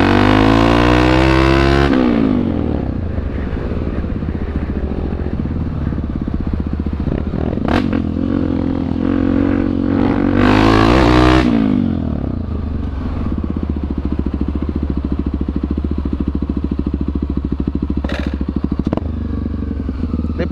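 A motorcycle rides a wheelie with its rear fender dragging on the pavement, the loud engine revving and shifting over a harsh scraping clatter, with two sharp bursts of throttle and brief crackles.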